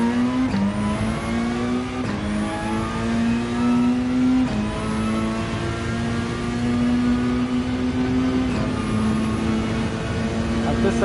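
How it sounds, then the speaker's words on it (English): A race car engine in Gran Turismo 7, driven at Bathurst, revs hard in long climbing pulls broken by quick gear shifts, loud and continuous throughout. "If this is a car that's meant to be revved out"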